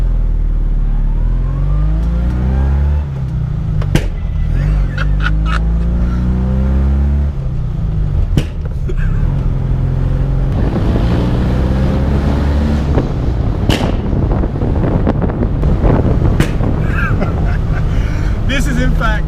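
A 1972 Abarth 695 engine revs up and down as the car drives, loud and close, with repeated climbing gear pulls, pops and wind rush over the full stretch; a voice speaks briefly at times.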